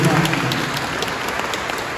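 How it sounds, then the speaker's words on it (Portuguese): Congregation applause breaks out during a Catholic sermon about the Virgin Mary, a dense wash of clapping that starts loud and holds steady over two seconds, with some voices mixed in. "Aplausos de Jesus."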